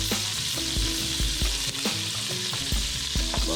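Half a stick of butter sizzles in a pan at the start of a cheese sauce for bacon baked mac and cheese, a loud continuous hiss broken by repeated low knocks and scrapes of a utensil.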